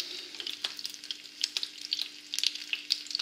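A poussin fries in butter and oil in a pan, crackling with quiet, irregular sizzling pops and a soft steady hiss.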